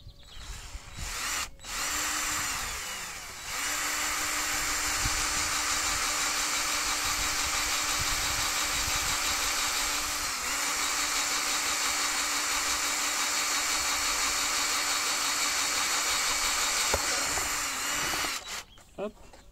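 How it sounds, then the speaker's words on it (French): A power drill with a 9 mm bit bores into a BMW E36 bumper, whining loud and close in long continuous runs after a couple of brief starts, with a short pause near the end. "Pour le perçage, je vais utiliser un forêt de 9."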